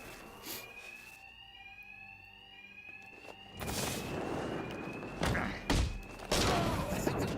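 A video game alarm rings steadily as a sustained electronic tone, overlaid by loud thumps and bursts of impact noise in a brawling game about punching billionaires.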